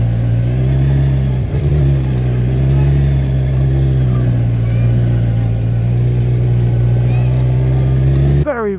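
A 2020 Kawasaki Z1000 base motorcycle being ridden, its engine droning loudly and steadily with slight throttle swells under heavy wind rush, close to the rider, who talks throughout.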